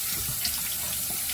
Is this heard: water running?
yes